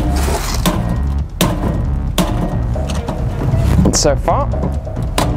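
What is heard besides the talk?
hammer whacking a toy safe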